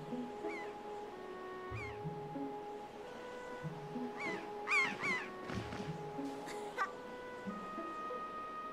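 Birds cawing in The Legend of Zelda: Wind Waker, a series of cartoonish squawks and caws over steady game music with tonal notes, moderately loud with no talk.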